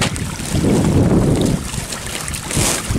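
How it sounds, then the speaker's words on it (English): Gusting wind buffets the microphone at a milkfish pond in a low, rumbling roar that swells and eases, with a faint watery wash beneath it. "It's windy time."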